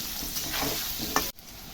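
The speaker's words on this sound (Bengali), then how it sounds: "আলুগুলো একদম লাল লাল করে ভাজা হয়ে গেছে" Potatoes frying in a pan with a little salt and turmeric, a loud close sizzle with stirring scrapes, ending in a brief clatter before the hiss resumes.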